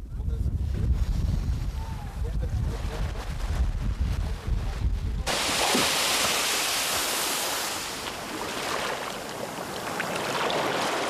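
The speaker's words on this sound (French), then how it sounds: "Le bercement des vagues qui vont et viennent repose l'esprit et le corps." Sea waves roll in and draw back along a shore, a low rumbling wash giving way to a loud, steady broadband roar of surf and spray, with wind buffeting the microphone.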